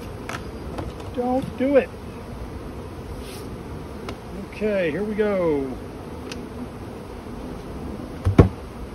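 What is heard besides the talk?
honey bees buzzing at an open hive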